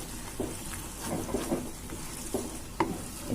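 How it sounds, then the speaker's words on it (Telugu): A spoon stirs fenugreek leaf and egg curry in a hot pan, soft scraping strokes over a steady sizzle of oil, with a few sharper knocks of the utensil against the pan. "మనకు ఆయిల్ పైకి వచ్చే వరకు ఇలా కలుపుకుంటూ ఉంటే రెడీ అయిపోతుంది"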